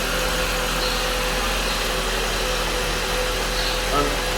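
A Jeep Compass engine runs at a steady idle after starting, a constant low rumble and hum that holds even and loud throughout with no break or change in pitch.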